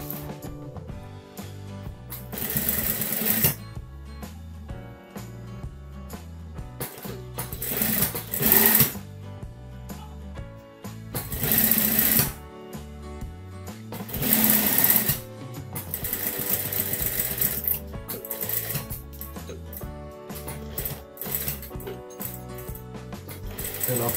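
Sewing machine stitching a men's short-sleeve shirt collar, running in repeated loud bursts of rapid rattling stitches separated by short pauses and small clicks of fabric handling, close up with no talking.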